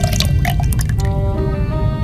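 Hydrogen peroxide solution pours into a container in The Raven video game, a short wet stream with dripping and a squishy fill, near and fairly loud, then a sustained tone.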